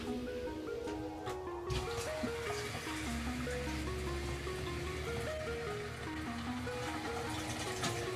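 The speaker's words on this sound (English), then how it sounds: "I'm gonna turn the hot water on" Hot water runs steadily from a household tap at a sink, a continuous splashing rush of water with no talking over it.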